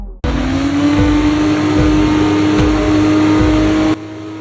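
Formula 1 race cars in a video game launching at the start of the Spanish Grand Prix, their engines screaming loud and close in one rising rev, with repeated gear-change dips before cutting off abruptly.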